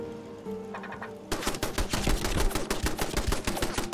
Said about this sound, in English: Why is my turret firing at me?